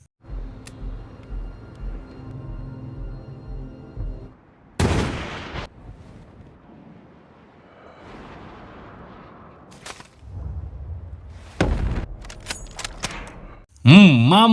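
A long-range sniper rifle fires on a battlefield, with a few sharp, loud cracking reports standing out against quieter rumbling and other scattered noises.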